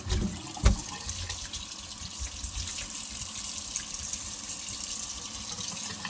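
Tap water runs steadily from a faucet while cured bacon is rinsed under it, a continuous close splashing with one brief knock near the start and no talking.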